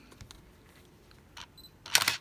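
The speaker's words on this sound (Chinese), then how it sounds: "它的快门还正常可动作" Minolta Alpha 7 SLR film camera firing its shutter, a quiet click followed by a louder, sharper mechanical burst near the end, close up and alone in a quiet room.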